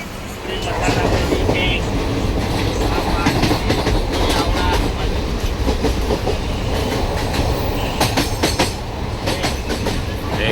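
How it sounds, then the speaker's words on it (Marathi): Diva–Sawantwadi passenger train running through the rainy Konkan, with a steady, loud rumble of wheels on track and a faint clickety-clack throughout, and voices chattering on board. "ट्रेन सुरू झालेली आहे"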